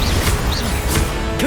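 A Confringo blasting spell hitting in the Hogwarts Legacy video game, loud crashing impacts layered with magical whooshes and game effects over about a second and a half, no speech.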